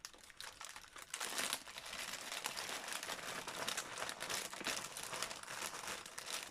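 Paper doily pages crinkle as they are pulled apart by hand, a close, continuous rustling and crackling that grows busier after the first second.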